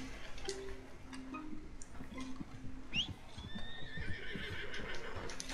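A horse in the video game Red Dead Redemption 2 whinnies clearly against a low in-game ambient bed, with hoof clip-clops scattered through the scene.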